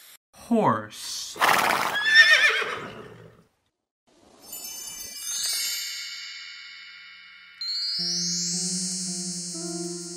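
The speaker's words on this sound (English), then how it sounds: "Horse." A horse gives several sharp whinnies and neighs, loud and close, followed by shimmering, tinkling musical effects and sustained tones.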